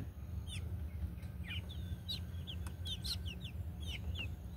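White Kelso pullets cluck and peep in short, repeated calls scattered across the stretch, over a steady low rumble of farmyard background noise, with no voices.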